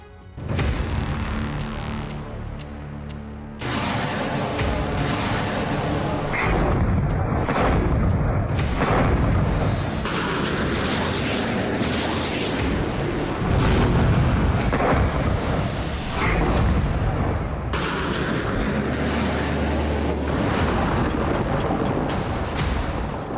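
Missile strike explosions against the Russian Black Sea Fleet in Crimea: a long run of heavy, rumbling booms and blasts, loud and near, overlapping continuously with brief gaps and no speech.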